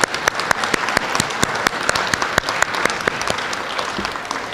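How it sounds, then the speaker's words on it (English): Loud, close applause for elementary school students of the month, dense clapping from a gathered audience with a few sharp individual claps standing out in a fairly steady rhythm. "Let's give them one more round of applause."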